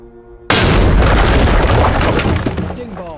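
A grenade detonates in the tactical shooter Ready or Not with a sudden loud boom, then a sustained roar of crackling debris that slowly fades, with voices faintly audible near the end.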